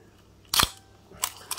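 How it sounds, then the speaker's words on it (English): A Minolta camera has its lens removed: a sharp mechanical click, then a few quieter clicks and rattles close to the microphone. "take the lens off."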